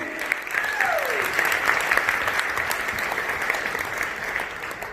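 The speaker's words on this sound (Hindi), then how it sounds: "एक बार जोरदार तालियां अपने लिए" Loud, sustained audience applause at a Kangen business gathering in India, a dense steady wash of clapping filling the whole stretch with no break.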